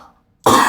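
A sudden, loud single cough from a person with a head cold, bursting harshly after a short quiet gap.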